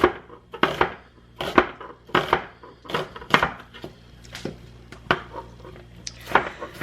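Very strong onions being chopped with a knife on a board: a run of crisp, uneven thuds and clicks at close range, some in quick pairs, with brief pauses between bursts and no talking.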